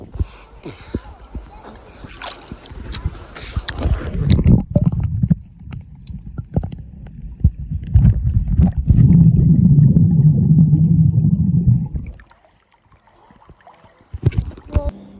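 Underwater sound from diving into a clear freshwater creek in Puerto Rico with a phone in a waterproof case: muffled gurgling rumble and splashy churn building midway, loudest toward the end, then cutting to near silence before brief surface noise returns.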